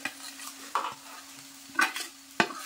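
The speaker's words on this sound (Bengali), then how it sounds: "এবার একটু নাড়াচাড়া করে নেব" A spatula stirs fried rice with fried vegetables, cashews, raisins and ginger in a pan: four distinct scraping strokes, spaced irregularly and close-up, over a faint sizzle and a low steady hum.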